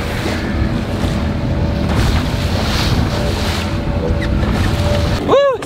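A small fishing boat runs over choppy sea, with a steady roar of engine, rushing water and heavy wind buffeting the microphone throughout, ending in a brief whooping voice.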